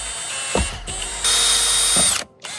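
A power drill bores through a plastic interior panel on a 2011 Honda Element, whining steadily in close bursts with a short pause, then a final loud stretch before trailing off.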